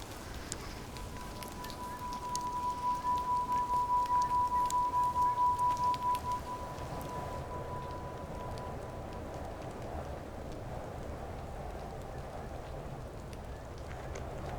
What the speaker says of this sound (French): Mais c'est la belle pluie.